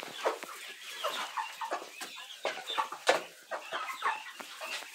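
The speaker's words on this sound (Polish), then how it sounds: "I nasze maluchy, słodziuchy. Tak, kurczaki." Chickens and small chicks on a farm, a flock clucking and peeping in quick, overlapping bursts, moderately close and continuous, with no talk.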